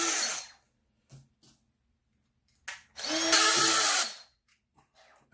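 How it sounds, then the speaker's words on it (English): A power drill whirs in short bursts while building a pachinko ball lifter kit, with a brief spin at the start and a louder sustained run of about a second near the middle, close and separated by silence. "I have a slightly smaller drill bit here."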